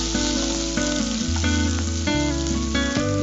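Two or three green chillies fry in a pan with a steady, close sizzle that carries on alone, with a low background hum beneath it.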